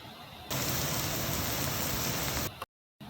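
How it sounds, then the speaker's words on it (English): Ground beef sizzling in hot oil for Korean beef makes a loud, even, crackling hiss that holds steady for about two seconds, then stops, followed by a brief silence. "the sound has changed from boiling to sizzling."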